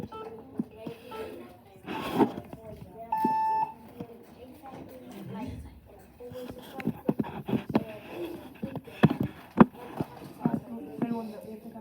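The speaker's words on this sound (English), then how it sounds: "So our timer has ended, Neil." A timer ends with a steady electronic beep tone lasting under a second in a classroom, amid children and a teacher talking and general room noise.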